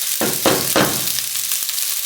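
Chicken fried rice made with basmati sizzles in a regular round frying pan, a loud, close, steady hiss broken by a few bursts as the rice is stirred and tossed.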